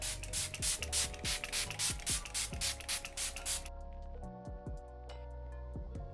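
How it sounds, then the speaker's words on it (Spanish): Makeup setting spray misted across the face in a quick series of about ten short hissing bursts over roughly four seconds, close and fairly loud, followed by quiet handling noises and light taps. "otra vez con el fijador vamos a fijarnos todo el rostro"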